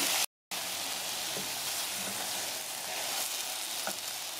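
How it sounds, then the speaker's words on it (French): Small pieces of apple with a touch of sugar sizzle and fry in a pan as they caramelize. The hiss is steady and dense close up, broken by one brief silent gap near the start, with no talking. "j'ai coupé les pommes en petits morceaux et on va venir les faire dorer"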